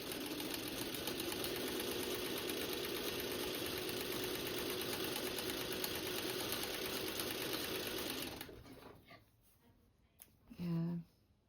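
A sewing machine stitching a quilt block runs steadily and loudly for about eight seconds, a continuous mechanical whir, then stops, leaving quiet room sound and a brief voice near the end.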